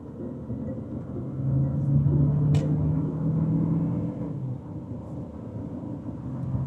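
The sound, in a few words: Chery Tiggo 7 Pro turbo DCT SUV accelerating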